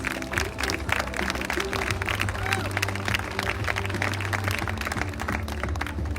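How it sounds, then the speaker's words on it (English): An audience at a pageant applauds the contestants in gowns on stage, steady clapping with some cheering over a low hum of background music, with voices mixed in. "So big round of applause for our beautiful contestants."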